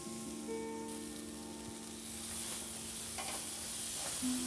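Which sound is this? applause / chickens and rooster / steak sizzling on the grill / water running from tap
steak sizzling on the grill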